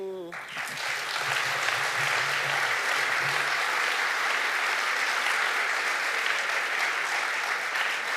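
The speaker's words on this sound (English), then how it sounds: "Another round of applause for Ruth Reichl." Audience applause after a talk by food writer Ruth Reichl, dense sustained clapping that holds steady and loud for several seconds, with a brief voice at the very start.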